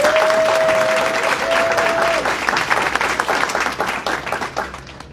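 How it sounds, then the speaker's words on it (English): A room full of people at an employer partnership luncheon breaks into loud applause, with a brief steady whistle-like tone in the first couple of seconds before the clapping tapers off. "So everyone here, just give yourselves a round of applause."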